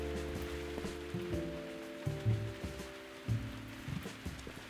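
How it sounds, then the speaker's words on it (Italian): Rain pattering on surfaces in the video game Viewfinder, a steady soft hiss with scattered droplet taps over low sustained musical tones, no voices. "eh sì, la pioggia."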